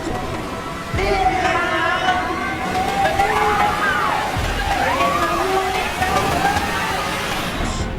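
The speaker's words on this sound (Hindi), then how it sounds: "बारिश की वजह से तेजी से पानी केव के अंदर जा रहा था।" Monsoon rainwater rushing into a cave, a continuous watery slosh and roar running throughout, with a voice speaking over it.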